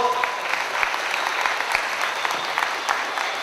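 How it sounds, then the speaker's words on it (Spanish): An audience at a large celebration for older adults in Yautepec breaks into steady, dense applause, many hands clapping together at close range for a few seconds. "Un aplauso, por favor."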